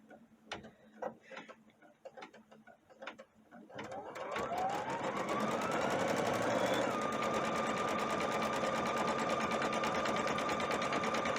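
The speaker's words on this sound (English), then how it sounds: "it should do a satin stitch all the way around" A sewing machine runs a continuous appliqué satin stitch, starting after a few soft clicks and settling into a steady, fast, close mechanical whir with rapid ticking needle strokes that fills the rest of the clip.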